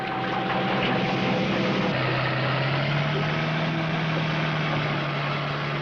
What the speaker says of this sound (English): Maybe we can wake him if we race the engine.